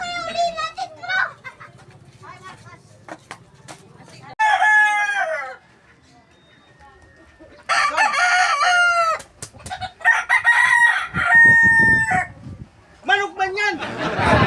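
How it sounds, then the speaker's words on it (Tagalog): A rooster crows loudly several times in bursts, with children's voices and chatter around it between the calls. "Manok man yan!"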